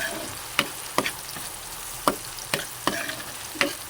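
Chicken for adobo fries in a pan with a crackling sizzle, punctuated by about half a dozen sharp spatula or spitting-oil pops at irregular intervals, with no voices.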